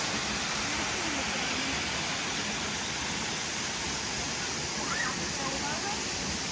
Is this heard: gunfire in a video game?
no